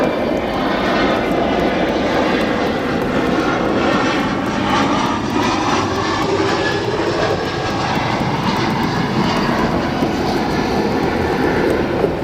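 A regional passenger jet arriving at Chicago O'Hare International Airport, its engine roar loud, broad and steady for the whole stretch, with no voices.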